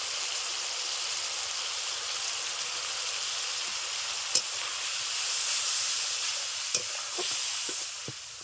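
Tomato puree with cumin, coriander and dried chilli powder frying in oil for a fish curry, a steady close sizzle with a few sharp stirring knocks against the pan and no talking.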